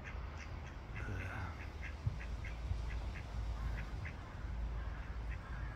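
Ducks quack repeatedly at a distance outdoors, with short quacks spaced irregularly across a steady background of wind and ambient noise.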